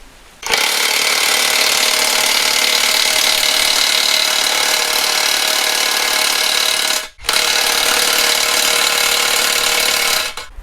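A Makita impact wrench drives a 300 mm earth auger into the ground, a loud, close, continuous hammering rattle that runs for several seconds, cuts out for a split second, then resumes before stopping, with no talk.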